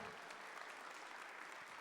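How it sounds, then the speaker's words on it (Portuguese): A church congregation standing and clapping for Jesus after a sermon, a faint, even wash of applause with scattered voices beneath. "dá uma salva de palmas para Jesus"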